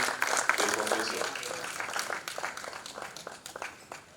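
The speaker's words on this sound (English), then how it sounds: "Keep clapping till it gets to you." Crowd clapping continues at a diplomacy master class session as a professor is welcomed, hands patting steadily and fading toward the end while a voice speaks over it.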